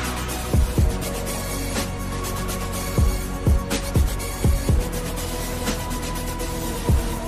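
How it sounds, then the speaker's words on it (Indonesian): A car's right turn indicator ticks in an uneven series of sharp clicks over a steady low engine hum, close and clear, with no talking. "Sen kanan."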